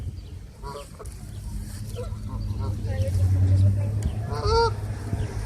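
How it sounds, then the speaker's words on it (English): Several geese honk in bursts, some close and some farther off, over steady outdoor background noise. "we got like a ton of geese out here"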